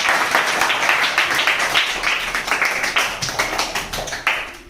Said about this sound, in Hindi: गुड, ताली बजाओ इसे।